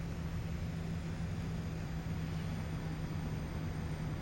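An aircraft engine in a flight video game roars steadily at full throttle, a dense continuous drone with a low hum that stays loud and even throughout, with no talk.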